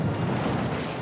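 Naval guns firing in World of Warships: Legends, a dense, continuous heavy rumble of booming cannon fire filling the short moment, loud and close with no voices.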